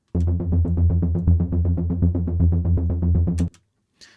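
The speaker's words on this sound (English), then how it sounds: "Super simple driving bass line." A punchy synth bass pulses in a steady, driving rhythm of repeated even notes for about three seconds, then stops abruptly.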